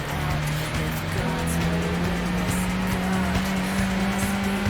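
Racing cars in the Gran Turismo video game roar past with a steady engine whine and a lot of tire squeal, loud and continuous throughout.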